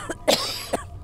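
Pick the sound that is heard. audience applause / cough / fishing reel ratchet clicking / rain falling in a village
cough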